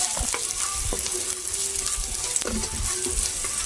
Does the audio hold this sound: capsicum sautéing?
yes